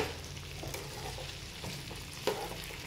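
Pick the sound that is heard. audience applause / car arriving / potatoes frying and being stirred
potatoes frying and being stirred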